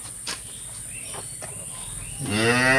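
At a cattle market, a cow with her calf lets out one loud, close, drawn-out moo near the end, following a quieter stretch with insects chirping in the background.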